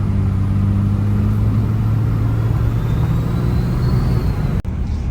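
A 6.7 diesel truck with a CP3 swap and a drop-in turbo pulls away from a dead stop, its loud, steady engine drone holding for about four and a half seconds before cutting off abruptly near the end.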